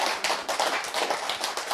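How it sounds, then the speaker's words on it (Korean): An audience claps at a lecture, many hands beating in dense, fairly loud, steady applause with distinct rhythmic pulses throughout, with no voices over it. "박수를 치자."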